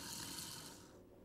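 Cold water runs steadily from a kitchen sink tap, a soft continuous hiss and splash heard close by, fading slightly toward the end.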